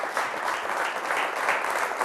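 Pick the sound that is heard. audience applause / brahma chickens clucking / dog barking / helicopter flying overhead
audience applause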